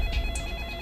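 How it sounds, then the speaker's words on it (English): A telephone on a second line rings in a Los Angeles scene of the video game Splinter Cell: Pandora Tomorrow. It gives a short, steady electronic bell tone under a low ambient hum, with no talking. "the other line is ringing"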